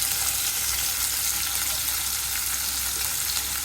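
Onions frying in hot oil for chicken bhuna: a steady, even sizzle of constant hissing crackle that continues without a break, close and moderately loud.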